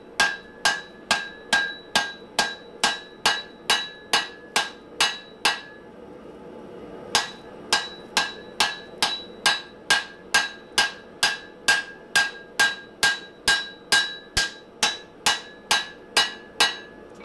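A hammer strikes steel on an anvil to take peen marks out of a froe's edge, giving evenly spaced, ringing metallic blows, about two per second, loud and close, with one short pause partway through.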